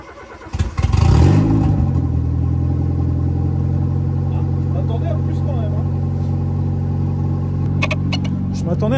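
A rusty used car, bought for 600 euros, starts up and moves off, its engine catching with a short surge and then holding a steady, loud idle-to-cruise drone close by.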